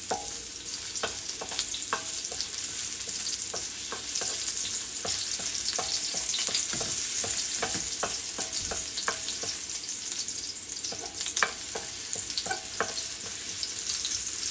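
Chopped garlic fries in hot cooking oil for pork adobo with potatoes and eggs, giving a steady, close sizzle throughout with scattered clinks and scrapes from stirring.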